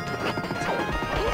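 Horse hooves clip-clop in the Capcom arcade game Knights of the Round, a short burst of clattering game hoofbeats mixed with other busy game sounds and no talk.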